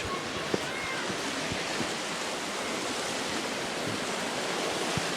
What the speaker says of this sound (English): Just the noise of the water here as you come across the bridge is absolutely fantastic